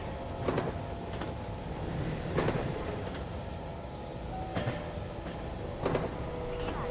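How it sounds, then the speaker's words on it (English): A heavy train rolling fast over jointed track in Train Simulator gives a steady rumble with periodic clickety-clack beats about once a second, loud and continuous with no talk. "the sort of the noise on the jointed track, the fact we're flying along, it's stunning"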